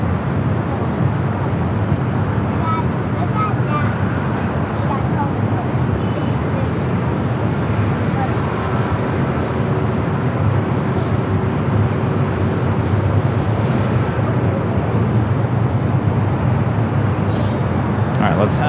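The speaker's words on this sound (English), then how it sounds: "number 2 for takeoff is a Delta" A Delta Boeing 757 jet takes off at Los Angeles International Airport, heard as a steady, loud broadband roar of engine and rushing air that holds throughout with little change.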